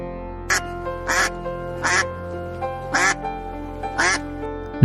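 Goose or duck honks for a Bengali alphabet lesson, five loud, evenly spaced nasal quacks about one second apart, close and clear over a steady background tone.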